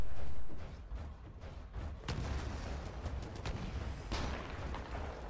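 Quad rocket launcher firing in the sci-fi shooter Titanfall, a burst of sharp, booming blasts with crackling explosions spread over a few seconds, fairly loud with no talk.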